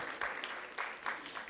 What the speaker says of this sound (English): A round of applause, please, for Jamhuri High School.